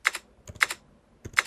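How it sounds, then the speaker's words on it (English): Computer keyboard clicking during typing, three quick bursts of sharp clicks with short pauses between them, close and clear with no talking. "That's doing a funny clicking noise as I type"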